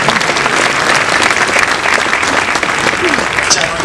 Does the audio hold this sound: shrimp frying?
no